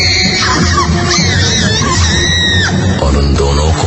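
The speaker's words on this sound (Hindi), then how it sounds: "लेकिन उनकी बात खत्म होने से पहले राखी एक बार फिर से चीखी" A woman's scream used as a sound effect in a Hindi horror audio story set in a haunted college, loud and continuous with shrill wavering cries layered over dark rumbling ambience.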